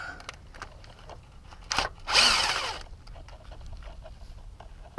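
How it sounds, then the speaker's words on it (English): A small impact wrench loosens 12mm valve cover bolts on a 1992 Mazda Miata 1.6 engine, giving one short, loud, close burst of whirring and hammering of under a second against a quiet garage background. "If they're too tight, then use your little impact to"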